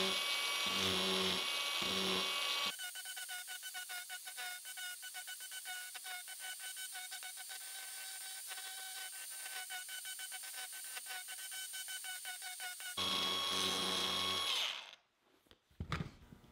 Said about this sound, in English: the cutting tool is spinning in this direction, and I'm getting kind of a choppy cut